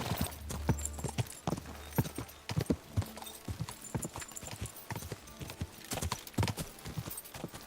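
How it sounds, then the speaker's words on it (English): Horse hooves clip-clop at a fast gallop in Kingdom Come: Deliverance 2, a rapid run of sharp thuds over game music with a brief whinny and no speech. "Este caballo es rápido, pero se le gasta rápido la estamina."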